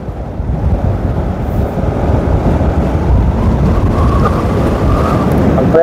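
Strong wind roars steadily across an outdoor race course, a loud continuous buffeting rush that fills the whole stretch.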